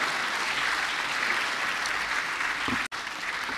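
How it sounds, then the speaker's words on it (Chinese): A council chamber bursts into sustained, loud applause from many hands as a newly elected council speaker is congratulated, with a brief cut near the end before the clapping resumes. "请大家热烈鼓掌为许坤元议长祝贺。"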